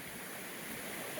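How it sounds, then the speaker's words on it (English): Steady, full rush of a river flowing through deep forest at Panther Creek in North Georgia, a continuous broadband wash close by with no pauses or voices. "You can hear the rushing waters of the river"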